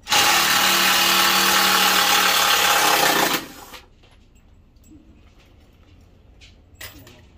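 A power drill backs out a screw during furniture disassembly while moving house, a loud steady whir lasting about three seconds before stopping abruptly, followed by quiet room tone and a faint clunk.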